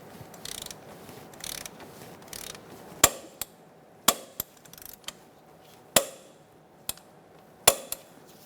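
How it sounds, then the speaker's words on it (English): Wrench tightening and torquing the pinch bolt on a 2004–2009 Mazda 3 front right CV axle job: a series of sharp metallic clicks and clacks, about seven distinct hits spaced irregularly, with softer ratcheting scrapes early on, close and alone. "Now we're going to tighten and torque our pinch bolt to 50 foot-pounds."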